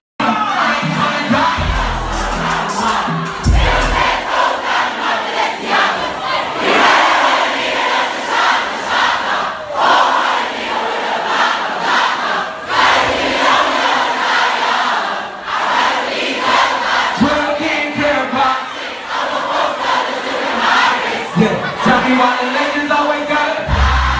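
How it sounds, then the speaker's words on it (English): A large concert crowd sings along in unison at a rap show, loud and sustained for the whole stretch, a dense roar of many voices with cheering swells and no single lead singer. "he just put the mic up to the crowd, and they're all singing"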